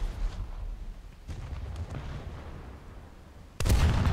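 Naval guns on a Soviet SKR-7 frigate in a video game fire high-explosive rounds, a low rumbling boom near the start and a louder heavy blast at the end over a steady background rumble.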